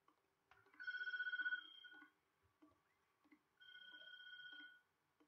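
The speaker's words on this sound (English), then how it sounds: "don't answer the phone." Electronic telephone ringing in the horror video game Tattletail, two separate trilling rings with a short gap between them, heard alone against quiet background with faint clicks.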